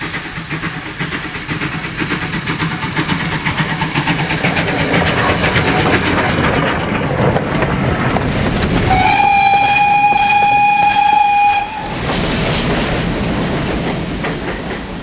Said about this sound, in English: a train approaches the Berwyn Tunnel on the Llangollen Railway